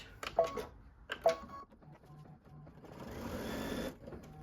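A sewing machine stitches a seam on a quilt block, a few short mechanical bursts early on followed by a longer, louder continuous run of stitching up close.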